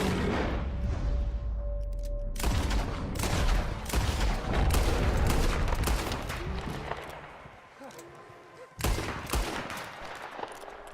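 Rapid volleys of gunfire and heavy shots crack through a Red Dead Redemption 2 video game fight, loud and dense, with brief bursts and a large blast near the end, under occasional voices.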